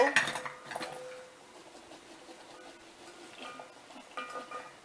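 A jar of red onion and tomato salad is shaken and tapped out into a bowl, opening with a short, close clatter of glass and dishware, then fading to soft, faint patters and light knocks.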